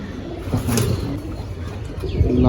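Pigeons cooing at a pigeon trading market, soft low coos repeating amid a steady murmur of background crowd noise and activity.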